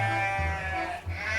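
Sheep bleat at a livestock market weighing area, one long wavering call followed by another, close and clear over a low background murmur.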